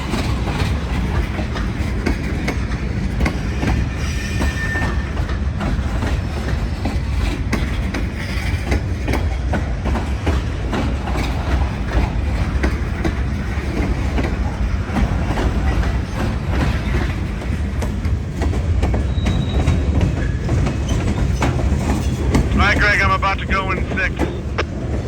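A manned helper freight train rolls past at a short siding on the Cascade sub railway, with steady rumbling and clickety-clack of wheels over the rails, a constant close roll along with wind noise.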